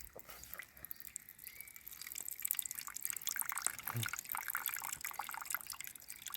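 Water trickles and drips steadily from a Paany portable water filter at a hammock camp in the bush, a close, faint, continuous dribbling that grows slightly fuller partway through.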